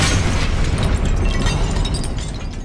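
A fiery Confringo blast spell from the Hogwarts Legacy video game, a loud sustained rumbling explosion with crackling bursts filling the whole moment without talk.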